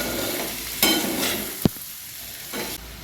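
Tinda vegetable coated in masala stir-fries in a pan, a soft continuous sizzle broken by scraping stir strokes and one sharp clack of a utensil against the pan.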